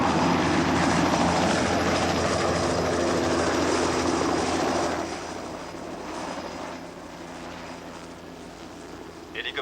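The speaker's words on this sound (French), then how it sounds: "Hélicoptère pour Collet." A helicopter flies close by, a loud steady engine and rotor drone that eases slightly partway through, with a faint voice under the noise.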